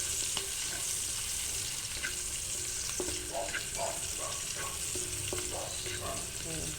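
Onion and garlic sauté in a pan for a crab stick and udon noodle dish, frying with a loud constant sizzle while a utensil stirs and scrapes in irregular bursts, close up and with no talking.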